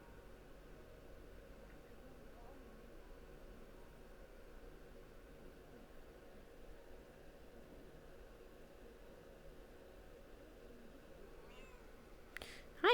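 A cat meows faintly a few times toward the end, over a quiet, steady background hiss.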